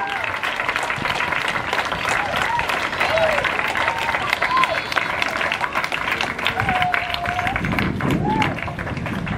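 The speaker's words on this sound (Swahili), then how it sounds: "Kwa hiyo kwa sasa nataka wanafunzi wote wawapigie wazazi wao makofi kwa juhudi zao za kuwekea mustakabali mwema." Students at a large, old school's ceremony clap for their parents in sustained crowd applause, a dense patter of many hands with scattered voices and cheers rising through it.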